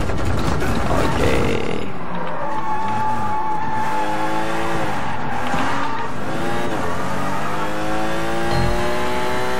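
A car in the open-world game Sleeping Dogs revs hard and accelerates during a street race, the engine climbing through repeated rising sweeps with tire squeal, loud and up close throughout.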